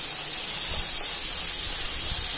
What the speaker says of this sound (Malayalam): ഞാൻ തക്കാളി ഇട്ട് കൊടുക്കുന്നുണ്ട്